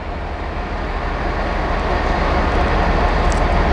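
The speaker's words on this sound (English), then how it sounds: "we've got 2 locos here, 2 66s" Two Class 66 diesel locomotives sit at a railway station near Didcot, giving a steady, loud broadband rumble and hum that holds evenly throughout with no speech.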